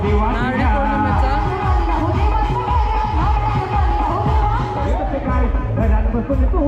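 A festive crowd celebrating Narali Purnima at Dhakti Dahanu, a dense, continuous babble of many voices, singing and cheering, loud and steady throughout.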